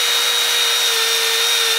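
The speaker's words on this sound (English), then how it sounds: "Like with any power tool, you do have your hand very close to something spinning fast." A power tool used to clean rusty sockets whirs steadily at high speed, a loud, continuous whine with a constant pitch that cuts off abruptly at the end.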